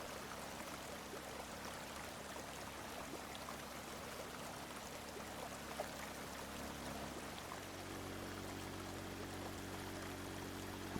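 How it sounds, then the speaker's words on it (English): Water drains steadily out of a small flooded pocket into a river on a flooded farm in the video game Drain Sim, a continuous broadband rushing and trickling flow that holds even throughout, with a low hum shifting partway through. "I got this little pocket draining out, going into the river."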